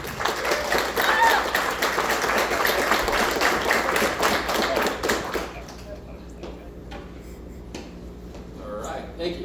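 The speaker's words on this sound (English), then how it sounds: "if we can give a big round of applause for our first comedian," An audience at a stand-up comedy show applauds a comedian, dense clapping that runs loud for about five seconds and then thins to scattered claps.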